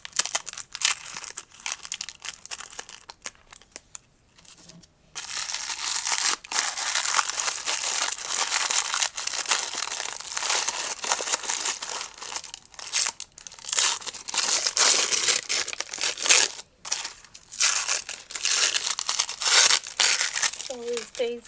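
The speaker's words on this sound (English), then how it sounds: "now the stickers is this one right here, which I'm going to open up" Crinkly plastic sticker package being opened and handled, producing loud, continuous crackling and crumpling close by for most of the stretch after a brief quieter pause, with occasional speech.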